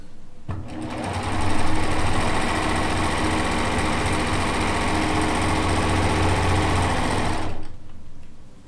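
A sewing machine stitches a quarter-inch quilt seam in one steady, continuous run of fast mechanical whirring and clatter, close and loud, stopping abruptly near the end.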